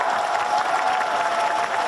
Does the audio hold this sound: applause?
yes